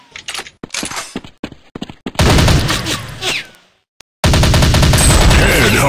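Rapid gunfire bursts from a mobile shooting game set on a US army commando mission, loud and close, starting with scattered shots and building into dense sustained firing after a brief pause.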